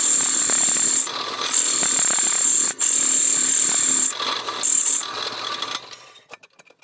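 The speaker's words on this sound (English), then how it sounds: "you can just put your hole saw in your drill" Corded drill spinning a hole saw through material for a single-burner propane forge build, a steady loud whine with a sharp high tone, briefly easing and resuming several times before winding down near the end.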